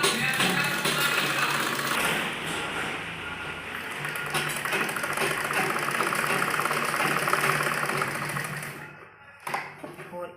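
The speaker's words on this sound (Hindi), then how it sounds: "इस साइड में पूरा झोल निकालते हुए सिलाई लगाएंगे" Sewing machine stitching the side seam of a kurti, a steady close mechanical whir running for most of the stretch before stopping near the end, followed by a brief handling sound.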